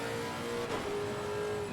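A GT3 race car engine in Assetto Corsa Competizione holds a steady, droning note at moderate volume, with a slight dip and shift in pitch partway through, and no talking over it.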